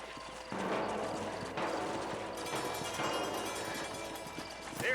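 Horse hooves clip-clop steadily and close in the Red Dead Redemption (2010) video game, with a brief whinny near the end and game ambience underneath.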